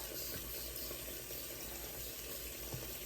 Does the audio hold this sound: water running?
yes